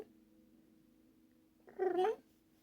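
A pet cat gives one short, fairly loud vocal call, like a meow or low growl, close by after a quiet stretch.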